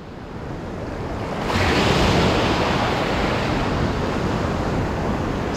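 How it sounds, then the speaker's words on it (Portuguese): Cold sea waves breaking on a rocky fishing shore, a loud, continuous roar of surf with wind buffeting the microphone, swelling stronger after the first second and holding steady. "Olha como é que quebra as ondas."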